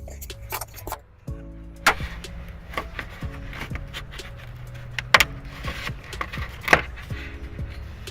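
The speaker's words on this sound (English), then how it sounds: "I'm going to use a trim tool to take off a little plastic piece here and a little plastic piece here" Plastic trim pieces pried loose with a trim tool inside a 2016 Subaru Outback: a series of sharp close clicks and snaps with some rattling handling noise in between, no talking.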